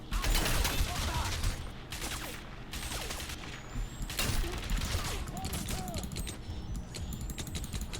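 Gunfire rattles in the video game Crysis Remastered: repeated bursts of shots over a dense, noisy backdrop of game sound, moderately quiet overall.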